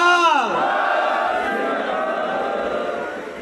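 At a political rally in Tarn Taran, Punjab, a leader's voice rings out in a long, falling call. A large crowd then answers with the Sikh war cry "Bole So Nihal" in a loud, sustained roar that slowly fades.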